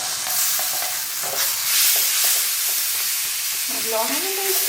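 Tomato paste sizzling and frying in extra fat for a Kerala-style pidiyum kozhiyum dish, a steady bright crackle with repeated scraping stir strokes, close up.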